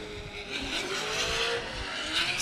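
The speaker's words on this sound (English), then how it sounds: "That's a 10-second car going sideways." Nissan S14 drift car at a drift competition, its engine revving hard as it slides sideways, a loud sustained roar with rising and falling throttle and faint tire noise, heard from trackside.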